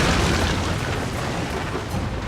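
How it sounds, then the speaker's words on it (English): Heavy coastal artillery bombarding attacking ships in the Total War: Shogun 2 Fall of the Samurai game, heard as a loud, continuous rumbling roar of blasts blending into one another without distinct pauses. "The defenders will actually have artillery mounted on the coast that they can use to bombard the attacking ships"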